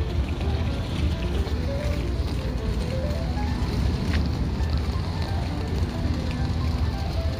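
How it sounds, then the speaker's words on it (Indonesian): A motor boat carrying ship workers pulls in at the Tsing Yi public pier, its engine a steady low rumble and drone close by, with water and a faint tonal whine mixed in throughout. "Itu perahu orang-orang pekerja yang di kapal-kapal itu kalau beli makan kan berhentinya di sini"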